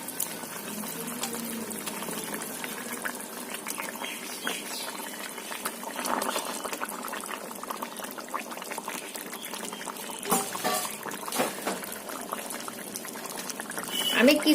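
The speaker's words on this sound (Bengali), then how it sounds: "আমার ফুটে এসেছে।" Fish curry gravy with tilapia and brinjal bubbling in a pan, a steady close simmer of popping and gurgling bubbles, with a voice talking over it.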